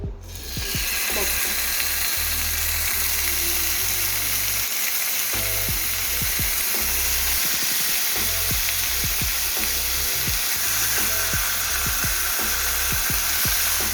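Bihari kebabs sizzle steadily in a frying pan, a constant loud hiss and crackle with occasional metallic clicks and scrapes throughout, no voices.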